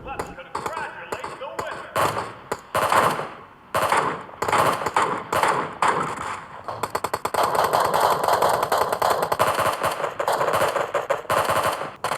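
Automatic gunfire in the mobile battle royale game PUBG Mobile, heard through a 7.1 Bluetooth gaming headset: long, loud strings of rapid shots with brief gaps, then a steady sustained burst of fire.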